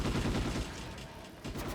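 Gunfire effects from the Ghost in the Shell PS2 video game, a dense burst of rapid shots at the start that thins out mid-clip, then another volley near the end.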